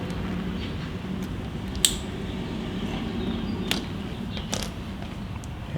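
Flush cut snips make a few sharp, isolated clips during a Harley brake pad replacement with ABS, each cut short and crisp over a low background hum.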